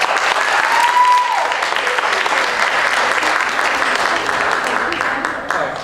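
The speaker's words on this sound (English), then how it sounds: "Let's give them one last round of applause" An audience at a charity talent show gives a loud, dense round of applause for student performers, with a brief whoop early on and the clapping fading slightly near the end.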